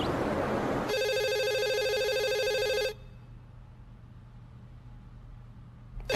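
A telephone rings loudly in a single long, steady trill that stops abruptly, followed by quiet room tone.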